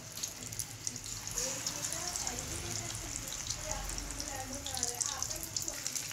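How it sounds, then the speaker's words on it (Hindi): Masala-coated fish frying in a pan over medium heat, a steady close sizzle with faint watery crackle running throughout, with some voice-like murmur in the background. "की गई मछली को फ्राई करने के लिए पैन में डाल देते हैं।"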